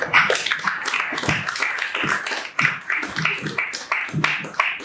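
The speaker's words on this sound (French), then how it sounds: "Merci de les applaudir chaleureusement pour leur contribution" An audience applauds at an album launch ceremony for a liturgical music album, a dense, steady wash of many hands clapping together for the full stretch.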